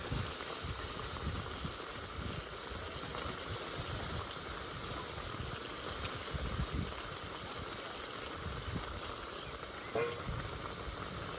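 Eggplant pieces frying in hot oil in a pan for a tilapia fish curry, a steady faint sizzle and hiss running throughout with no talk.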